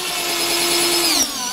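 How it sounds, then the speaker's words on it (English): A Black + Decker SMARTECH 20V MAX 3/8-inch cordless drill/driver runs at full power in drill mode, driving a screw into wood with a steady high motor whine that drops in pitch near the end. "Now we'll go ahead and rotate that up to drill mode, which would be full power."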